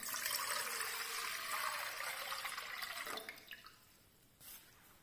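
Water pours into a cuscuzeira steamer pot, a steady splashing rush for about three seconds that tapers into faint dripping and trickling, with no talk.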